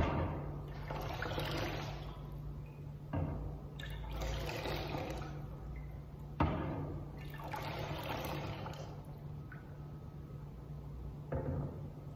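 Water poured by hand into a baptismal font during a church worship service, several separate splashing pours with brief pauses between them, close but quiet against a low steady hum.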